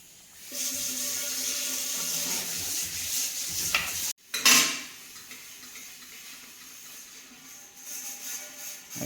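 Water pours and splashes steadily as cooked tapioca is drained from a pot, with a clatter of metal midway and continued trickling afterward.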